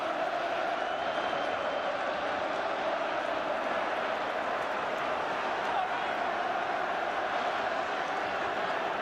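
Football crowd at the Chesterfield vs Swindon Town JPT Final in 2012, a continuous distant roar and murmur of thousands of fans filling the stadium, steady throughout with faint claps and shouts, under a commentator's voice.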